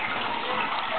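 Water pours steadily into a restaurant pan in a homemade maple syrup float valve setup, a close, continuous splashing gush.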